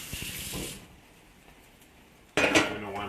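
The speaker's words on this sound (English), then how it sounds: "I'm drying those plates out." Ceramic plates clatter and clink together while being dried in a kitchen, a scraping rattle at the start, a quiet gap, then a louder burst of dish clanking at the end.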